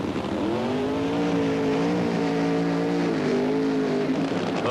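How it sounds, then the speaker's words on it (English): Ray Beadle's Blue Max funny car does a long, smoky burnout at the 1977 NHRA Gatornationals, its engine roaring loud and steady with a slowly shifting pitch for several seconds. "A long, smoky burnout"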